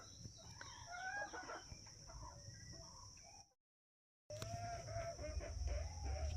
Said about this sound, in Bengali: দেখুন মুরগিগুলো বেরোনোর জন্য কি অবস্থা করছে।